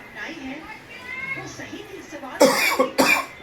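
Someone talks quietly, then two harsh, loud coughs burst out in quick succession near the end.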